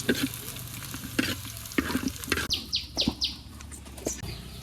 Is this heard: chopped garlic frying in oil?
yes